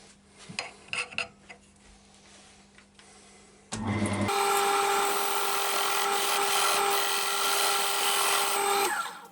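Woodturning tool cutting a mortise into a sycamore bowl on a lathe, a steady loud scraping whine that begins partway through after quieter handling sounds and holds to the end.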